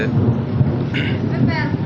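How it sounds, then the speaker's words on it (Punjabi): Low, steady thunder rumbles through the whole stretch, with heavy rain noise over it and faint voice-like tones briefly in the middle. "ਬੱਦਲ ਗੱਜੀ ਜਾਂਦਾ"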